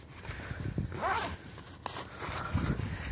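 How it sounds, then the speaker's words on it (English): The zipper on the storage pocket of a Wonderfold W4 Luxe stroller wagon is pulled closed in a few quick, close rasping strokes, with soft handling rustle and no talk. "when you're done, you zip it up"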